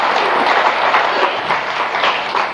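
Loud, sustained applause from a church congregation, a dense continuous wash of clapping that swells slightly and keeps going for the whole span without voices over it.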